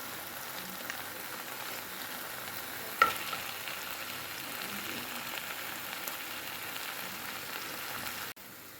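A seafood curry is stirred in a pot after long cooking, a faint, continuous bubbling sizzle with one brief clatter of the spoon partway through and no talking.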